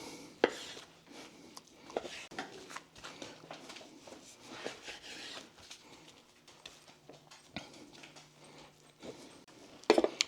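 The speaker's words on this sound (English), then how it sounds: "we're definitely going to have to cut it into steaks" A knife cuts picanha beef into steaks on a board, making soft, irregular slicing taps and clicks, fairly quiet overall, with sharper knocks at the start and the end.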